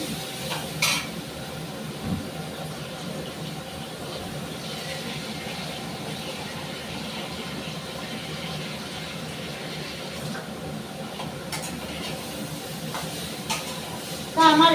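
Food fries in a pan with very little oil, a low, even sizzle running the whole time with faint stirring scrapes and a brief utensil clatter at the end.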